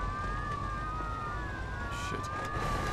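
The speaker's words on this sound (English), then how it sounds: "Oh, shit. There's a police car there." Police car siren in the Mafia 2 video game, two wailing tones sweeping steadily over a loud low rumble of engine and traffic noise, with no speech.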